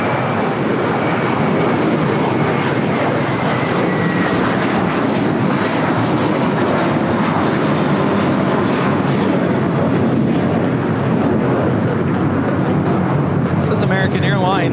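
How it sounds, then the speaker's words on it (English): American Airlines Airbus A321 in Piedmont retro livery taking off from LAX, a loud, close and continuous jet roar with full takeoff thrust that fills the whole clip. "American Airlines 1979 taking off to Chicago on the A321 in the Piedmont Airlines retro livery."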